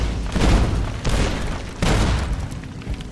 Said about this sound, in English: Hey, they destroyed one of the Securitrons.